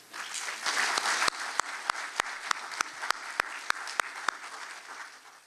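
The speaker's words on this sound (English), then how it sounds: "can we give a big round of applause for Long Nguyen and Kimmy Duong?" Audience at a scholarship award ceremony in Southern California gives a big round of applause that builds into a full wash, then thins into a run of sharp, evenly spaced single claps.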